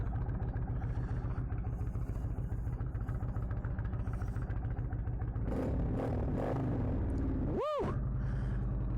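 An Indian Chieftain motorcycle with a loud aftermarket exhaust runs with a steady, throbbing idle rumble close up. It picks up into a rougher burst of revving near the end, and a brief chirp is also heard.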